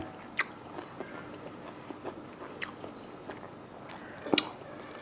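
Someone close by chews crisp, bitter vegetables eaten with fried tilapia, giving a few sharp crunchy bites and soft wet chewing in a quiet setting.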